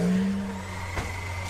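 A voice imitates a supercar engine with a brief, loud revving drone that slides downward and fades over about a second and a half.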